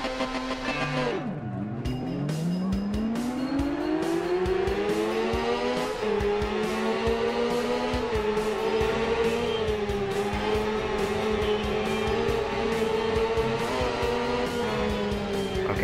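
In the Ride video game, a Yamaha R6 motorcycle races, its engine dropping then climbing into a sustained high-revving whine that holds steady with small gear-shift dips throughout, loud and close.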